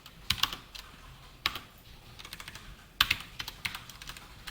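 Typing on a computer keyboard while writing Java code, soft irregular key clicks in small clusters, close and fairly quiet, with no talking.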